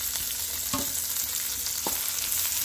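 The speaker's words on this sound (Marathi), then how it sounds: "कांदा व्यवस्थित परतून घ्यायचा" Chopped onion, capsicum and tomato sauté in a hot pan, a steady bright sizzle with two soft stirring scrapes of a spoon, close and alone with no talk.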